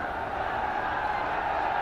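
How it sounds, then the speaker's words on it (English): An excited cricket crowd at a Delhi Test match between India and Sri Lanka keeps up a constant, broad roar from the stands. "Crowd is all excited"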